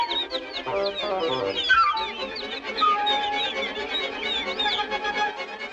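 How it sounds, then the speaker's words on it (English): Cardinal nestling squawking loudly and insistently, a dense stream of shrill chirps and calls close by, with other bird sounds mixed in throughout. "Junior squawks his head off"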